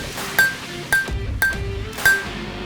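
Four sharp ringing hammer strikes on hot steel on an anvil while forging a knife, at an uneven pace, each a bright clang with a lingering ping, close by.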